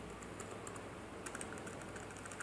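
Someone types a password on a computer keyboard, a quick run of light key clicks at close range, fairly quiet and with no voices.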